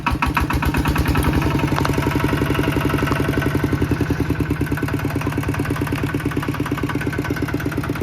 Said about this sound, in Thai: เอารถไถถอยออกไป